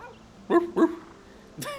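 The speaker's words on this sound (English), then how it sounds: "there we have a doggy. Let's talk to it." A dog in the video game Dragon Quest VII barks twice in quick succession, loud and close, followed a moment later by a short higher yip, with no talking.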